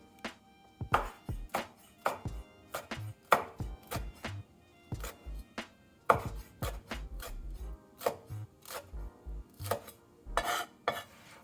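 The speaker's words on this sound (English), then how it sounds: "so we're gonna quarter our tomato" A knife quarters a tomato for Taiwanese beef noodle soup, striking a cutting board in a close, loud series of sharp chops at an uneven rhythm, with small clatters in between and no talking.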